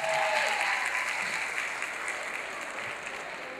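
Audience applause at a university fashion show greets a judge being introduced, a broad wash of clapping that starts strong and slowly thins out over a few seconds, heard from a moderate distance.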